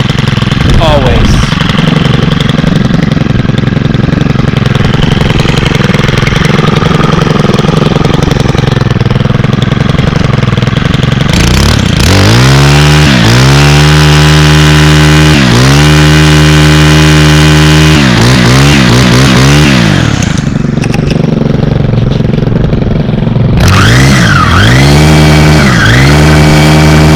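A 4-mix engine outdoor power tool, a trimmer-type machine, runs loud and close. It idles raggedly, then revs in repeated bursts with rising and falling pitch, and a person speaks over it at times.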